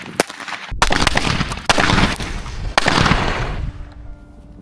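Several firecrackers explode inside a $50 miniature plane model, a burst of sharp bangs and crackling blasts in quick succession, close and loud, fading to quiet at the end.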